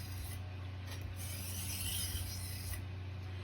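A knife blade is drawn across a sharpener in a few smooth strokes, producing soft, close rasping scrapes that rise and fall steadily, with no talking.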